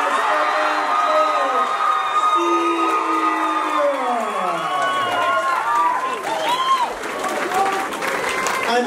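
At a professional boxing night, the crowd applauds and cheers for both boxers in the ring. Loud, sustained clapping and whoops carry under an announcer's amplified voice that keeps talking over the noise.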